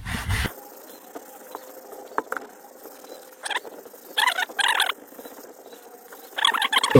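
A microfiber cloth rubs foamy cleaner into upholstery fabric along the grain, making soft scrubbing strokes in short repeated bursts close by.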